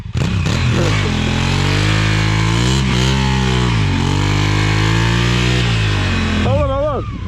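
A big adventure motorcycle engine straining in soft sand dunes, loud and close, revving with rising and falling pitch throughout before easing off near the end.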